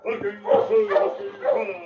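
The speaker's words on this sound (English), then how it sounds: "he heard the sound of barking outside" Several dog barks and yips in quick succession, fairly close, with an excited, irregular rhythm and a whimpering edge.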